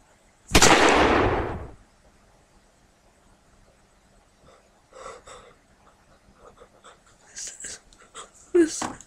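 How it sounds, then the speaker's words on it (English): A toy AK-47 gun's electronic shooting sound effect, a single loud hissing blast lasting about a second, followed by faint voices and small noises nearby. "I'm gonna shoot you with the AK-47. Fire!"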